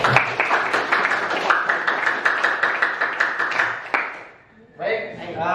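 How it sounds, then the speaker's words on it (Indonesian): A classroom of students claps together in a steady, rhythmic unison beat, fairly loud and close, after a math lesson greeting chant; the clapping stops abruptly and a voice begins speaking. "Tepuk tangan dulu."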